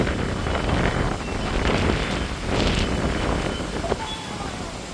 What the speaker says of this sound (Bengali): এখন তুফান এসছে খুব জোর হাওয়া চলছে